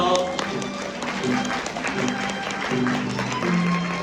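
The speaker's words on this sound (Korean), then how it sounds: "여러분들의 큰 박수 부탁드립니다" Wedding guests applauding as the two mothers bow to each other, a continuous round of clapping with a soft piano trio playing underneath.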